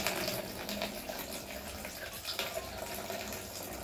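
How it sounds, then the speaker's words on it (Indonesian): Water pours steadily from a squeezed Sawyer Squeeze portable filter pouch, a continuous close splashing stream with no talk over it. "Jika sudah diremas, keluar airnya tuh lebih cepat banget ya, seperti ini."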